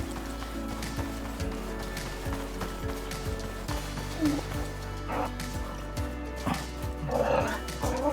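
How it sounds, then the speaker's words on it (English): A house dog barks in short, loud, repeated bursts indoors on New Year's Eve, close by, with a steady hum and game sounds underneath. "Don't bark at me."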